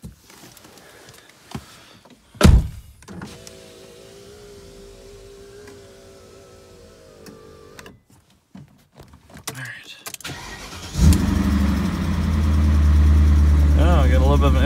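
BMW E39 M5 engine idling in a garage with a light ticking from an empty lifter, a steady mid-level idle after some door and window sounds, louder near the end; a voice speaks briefly.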